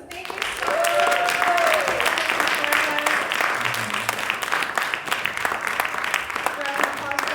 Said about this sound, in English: Can we give another round of applause to Melissa in the booth?